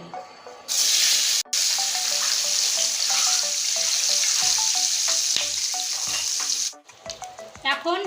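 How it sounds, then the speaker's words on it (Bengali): An egg rubbed with salt and turmeric goes into hot oil, setting off a loud, steady sizzle with scattered pops for several seconds before it cuts out into a few clattering kitchen sounds. "এই ডিমটা এখন ভেজে নিচ্ছি এখন তেলে ছেড়ে দিচ্ছি"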